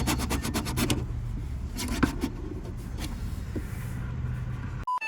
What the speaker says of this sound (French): On va couper le robinet,